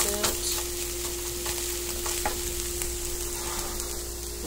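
Food stir-frying in a skillet on low-medium heat, a continuous close sizzle with a few sharp scrapes and taps of the utensil and a steady low hum beneath.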